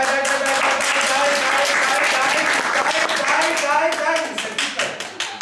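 A group rehearsing claps on cue, with irregular hand claps mixed with lively voices and chatter, loud and close before tapering off toward the end.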